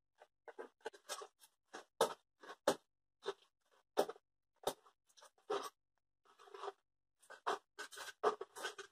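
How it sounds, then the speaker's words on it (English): A knife slices through foam board parts for a model plane's bottom sections in a quiet room, with a series of short, close, crisp scraping cuts in irregular bursts separated by silent gaps. "So I'm going to go ahead and cut the bottom sections out now, just so I can see where they are for the landing gear."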